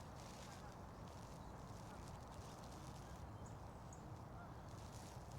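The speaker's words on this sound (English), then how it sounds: "So I can hear some geese." Geese call from some distance across open countryside, a couple of faint honks rising out of a steady wash of wind and ambient noise.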